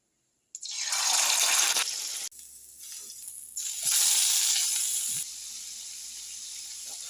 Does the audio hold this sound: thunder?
no